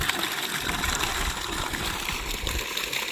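Water gushes continuously from a running 8.5hp solar pump motor, a constant loud, rushing wash with low churning rumble throughout.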